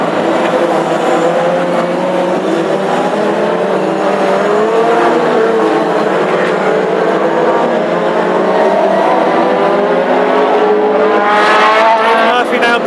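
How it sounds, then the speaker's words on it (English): Classic hot rod race cars lap the Northampton oval during a heat, engines roaring loud and continuous with shifting pitch as the pack races past, under steady commentary. "The race continues with Dave Murphy leading."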